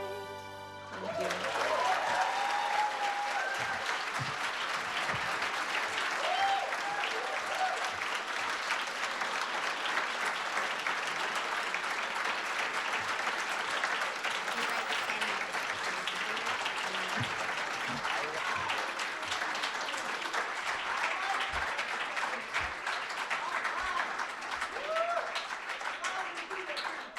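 Long, steady applause from an audience after a song performance at a Martin Luther King Jr. celebration, dense clapping that stays even for nearly half a minute.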